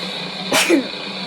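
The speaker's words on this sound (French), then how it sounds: "je vais éternuer" A single sharp sneeze bursts out, a quick explosive breath ending in a short voiced tail, with quiet background hiss around it.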